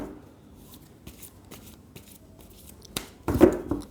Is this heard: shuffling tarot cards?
yes